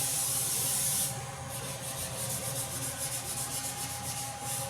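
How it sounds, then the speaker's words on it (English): Soft rubbing strokes over paper while shading a pencil drawing of basic shapes, a steady close, quiet scratchy texture with a brief brighter hiss at the start. "Just very soft, kind of rub the whole thing inside."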